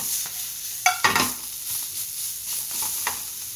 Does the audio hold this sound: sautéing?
yes